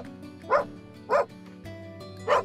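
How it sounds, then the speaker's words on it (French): Small hunting dogs, Jack Russell terriers and dachshunds on a wild boar hunt, give three sharp, evenly spaced barks nearby over a low background hum. "Ici, on utilise uniquement des petits chiens comme le Jack et le Teckel."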